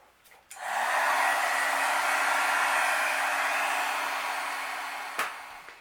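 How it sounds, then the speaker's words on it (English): Steady blowing roar of a heat gun running for several seconds close by, melting Nuvo embossing powder on a card, starting abruptly and fading slightly before a brief knock near the end; no talking. "I'm using the Nuvo embossing powder. And now let's heat set that."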